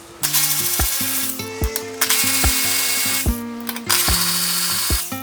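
A power tool spins bolts out of the lower brace on a 2022 BMW X3 M40i in several short bursts. Each burst is loud and close, and the whine rises and falls between brief stops.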